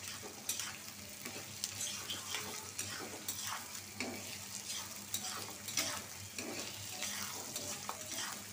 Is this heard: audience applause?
no